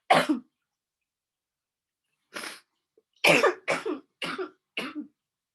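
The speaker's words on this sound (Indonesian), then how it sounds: "Aduh, maaf ya, lagi batuk." Several harsh coughs, one alone and then a quick run of four or five, close to the microphone with silence between bursts.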